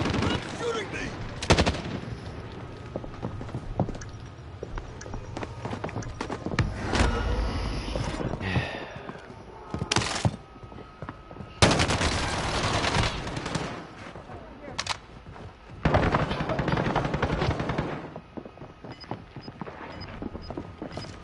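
Bursts of video game gunfire, loud close volleys and rattling automatic fire in separate clusters with pauses between, mixed with a voice speaking in the gaps.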